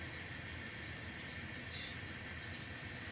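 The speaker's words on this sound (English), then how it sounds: "Takes a couple seconds to get the back of the train to move." An N scale model train begins to move, slowly taking up the coupler slack along its length with a soft, steady mechanical rumble and faint clicks, heard up close without talk.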